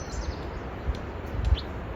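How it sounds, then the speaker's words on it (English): Birds chirp in the trees at the Havasupai campground in a desert canyon: a few faint, high tweets scattered over a steady outdoor background hiss. "Really a lot of birds down here."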